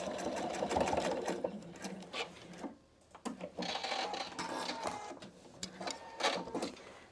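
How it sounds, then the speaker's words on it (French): A PFAFF Expression 720 sewing machine stitches a seam on a fabric pouch, running in close, steady bursts of rapid needle clatter with a brief pause midway. "Je vais faire juste une couture pour les maintenir en place. Alors, je fais une couture à ce niveau-là."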